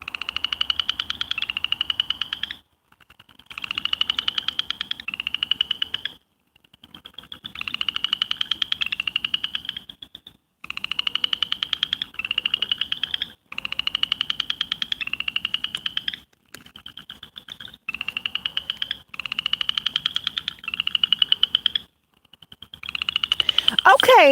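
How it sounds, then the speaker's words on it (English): Frogs croak in steady, repeated rhythmic bursts at a watering hole at sunset, close and fairly loud, with short pauses between runs of calls. "I was watching the sunset and enjoying the sound of the frogs."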